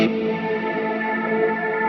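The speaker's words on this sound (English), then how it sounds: "you get more reverb, but you also get more shimmer, a lot more shimmer" Electric guitar played through a TC Electronic Plethora X5 shimmer reverb, a sustained chord blooming into a dense wash with bright octave-up shimmer tones hanging steadily on top, loud and continuous with no voices.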